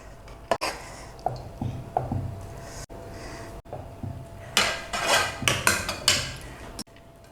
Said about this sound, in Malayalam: അപ്പോൾ നമുക്ക് ബാക്കി ചോറും കൂടി അതിലേക്ക് ഇട്ട് കൊടുക്കാം.